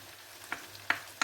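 Seafood sears in a pan for paella, with soft sizzling and three short clinks of stirring, faint and close, with no talk.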